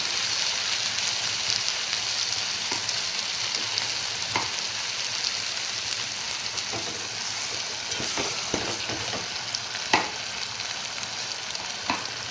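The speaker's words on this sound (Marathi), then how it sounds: "तेलामध्ये मसाला टाकला याला आपण छान होऊ द्यायचं" Masala paste fries in hot oil for a mutton dish, giving a steady, close sizzle throughout with scattered light clinks and scrapes of stirring.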